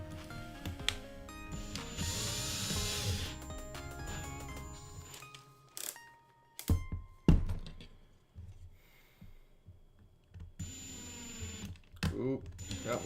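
A drill from a drill set bores into a model on a cluttered workbench, giving bursts of grinding and whirring with knocks and clatter between them. Speech is also heard nearby.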